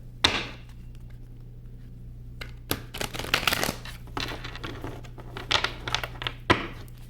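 Tarot cards being shuffled in quick riffling bursts, with soft taps and snaps over a steady low hum, several rounds close by.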